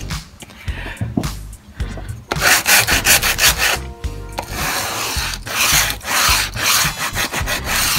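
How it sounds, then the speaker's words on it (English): Sandpaper rubs back and forth over a painted Dollar Tree glass jar, a steady rasping scrape in uneven strokes, close and fairly loud throughout, with no talking. "we start the sanding."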